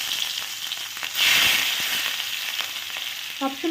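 Grated ginger hits leftover oil in a wok over low flame and sizzles, a close crackling hiss that swells as it goes in and then settles into steady frying, with light stirring clinks and no talk.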